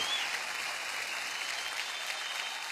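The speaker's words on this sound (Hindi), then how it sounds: "जोरदार तालियां।" A TV singing talent show studio audience claps steadily and enthusiastically, dense continuous applause with no pauses.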